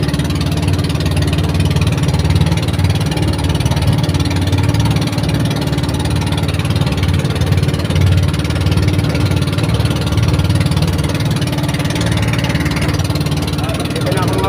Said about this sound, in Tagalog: umikot lang ako at para marinig ang andar ng makina nung aking tagasalubong